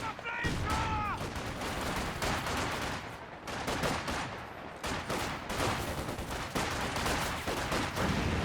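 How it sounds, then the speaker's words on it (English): Dense, continuous machine-gun fire from a Maxim gun fills a Company of Heroes 2 battle, loud bursts and crackling shots running throughout with explosions mixed in. "Sitting under the machine gun fire there."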